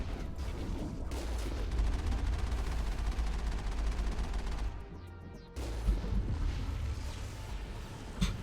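Sustained gunfire rattles nonstop in Mass Effect, a dense, loud stream of shots with a short break near the middle before firing resumes, with a few sharper bangs near the end.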